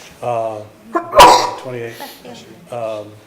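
A single sharp sneeze breaks out during a buildings and grounds committee meeting, with a man's speech before and after it in a meeting room.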